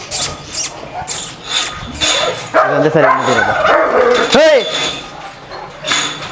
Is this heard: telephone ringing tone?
no